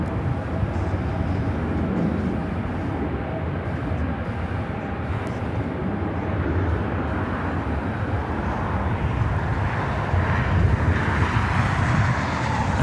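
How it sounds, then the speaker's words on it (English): A KLM airliner takes off from the south side of LAX, its jet engines a steady, broad roar that holds for several seconds, with no voices over it. "KLM taking off there on the south side"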